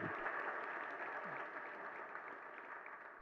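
A crowd at a Jain religious discourse applauds with steady, dense clapping that holds evenly and tapers slightly toward the end, heard at moderate distance.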